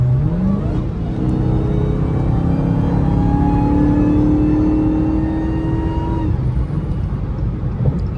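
A Dodge Charger Hellcat revs hard on a highway at night, its engine note climbing steadily in a loud, continuous pull for several seconds before easing off, close and dominant throughout.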